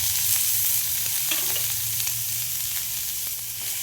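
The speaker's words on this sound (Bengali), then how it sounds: "সব সবজি একসঙ্গে দিয়ে সতে করে নেব।" Boiled corn, onion, tomato and green chili being sautéed in a pan, a close, steady sizzle with occasional scraping stirs and no talking.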